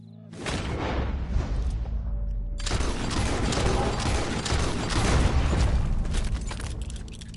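Loud, dense gunshots in the video game Red Dead Redemption 2, a continuous barrage of booming reports that drops briefly and then resumes heavier, with little speech.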